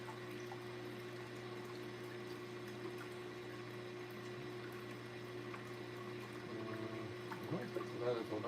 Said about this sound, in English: I'm assuming, like these type of submersible water pumps.